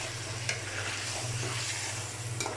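Duck meat and spice masala are sautéed in a kadai with splashes of water, giving a continuous close crackling sizzle, a low hum beneath it, and a few sharp clicks of the spatula against the pan.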